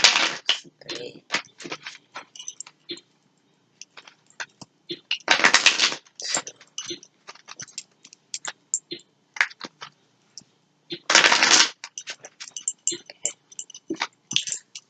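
Tarot card shuffling in several bursts, with two longer riffling runs and scattered quick flicks and taps between, fairly close and clear.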